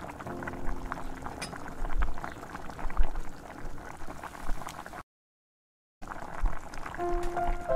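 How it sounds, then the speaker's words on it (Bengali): Curry with Kashmiri chili powder and poppy seeds in water bubbling at a steady boil, a dense, continuous bubbling close by with scattered pops, broken by a brief gap, with no voices. "4 মিনিট এটা ভালোভাবে ফুটিয়ে নেবেন।"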